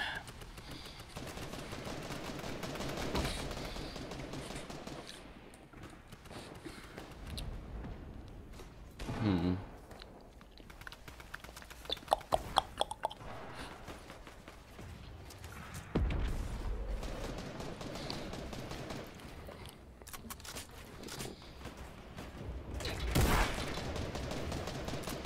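Rapid bursts of automatic gunfire from a video game crackle on and off, partly under a player's voice talking over the action.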